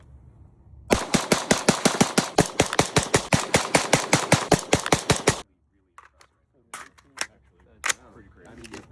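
Suppressed gunfire through an Irregular Design Group Hesychia Sixk suppressor at an outdoor shooting meet: a long, rapid string of about twenty-five sharp, close shots, followed by silence and a few scattered clicks and knocks.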